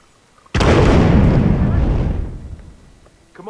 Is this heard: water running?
no